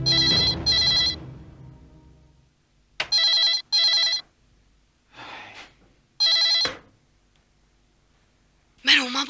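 An old-style telephone bell rings in several short bursts separated by pauses, loud and close, with a gasp near the start.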